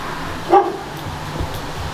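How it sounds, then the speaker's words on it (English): A pet dog at a family farmhouse gives a single short bark near the middle, close and fairly loud over a low steady room hum. "You guys all get to meet my parents' dog"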